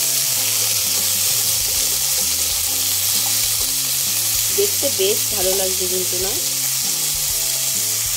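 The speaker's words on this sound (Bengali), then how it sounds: "তেলটা গরম হয়ে গেছে, এবার সবজিগুলো দিয়ে দিই। ও জল থাকলে এত ছিটকে আসে।" Vegetables dropped into hot oil fry with a loud, steady sizzle and spattering crackle that runs the whole time, with a voice speaking briefly over it partway through.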